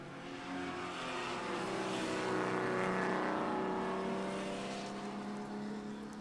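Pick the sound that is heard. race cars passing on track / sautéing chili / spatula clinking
race cars passing on track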